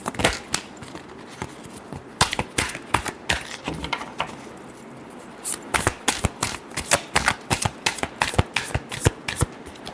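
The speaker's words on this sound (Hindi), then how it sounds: "last shuffle" Tarot cards shuffled in a long run of quick papery riffles and flicks, close and fairly loud, with brief pauses between bursts and no talking.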